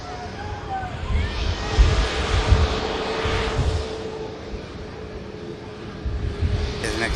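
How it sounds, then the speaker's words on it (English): A jet airliner takes off at Manchester Airport, its engine roar swelling and rumbling steadily at a distance, with a little wind noise over it. "Lovely takeoff."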